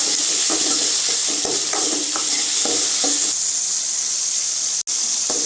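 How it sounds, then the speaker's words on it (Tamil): Tomatoes and onions sautéing in a pan while a mutton kulambu is prepared, with steady close sizzling and several scraping stirs of a spoon against the pan, no talk over it. "இப்போ தக்காளி இந்த அளவுக்கு வதங்கிடுச்சுங்க"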